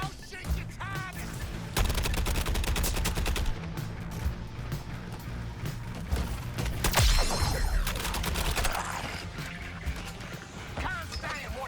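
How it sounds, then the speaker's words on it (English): Gunfire in Suicide Squad: Kill the Justice League, dense bursts of rapid shots and impacts mixed with crashes and game effects, loud and sustained, with voices talking over the action. "I'll shoot your target"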